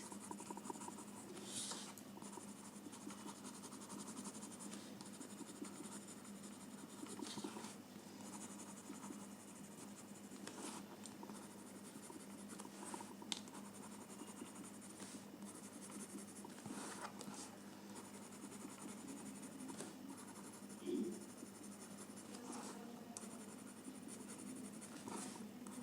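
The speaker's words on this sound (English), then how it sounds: "just use your pencil a little more" Pencil shading and blending on paper produce quiet, continuous scratchy strokes in a steady soft rhythm, close and faint, with no talking.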